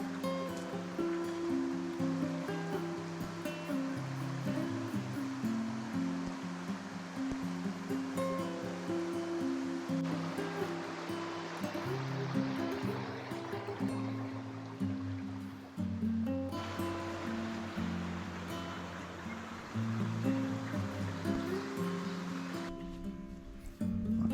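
Steady rushing water of a stream flowing deep in a steep rainforest valley, a continuous broad wash with no talk, holding the same level throughout.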